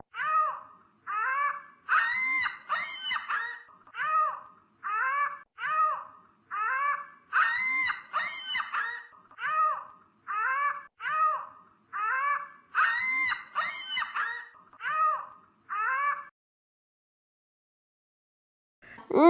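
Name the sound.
ostrich call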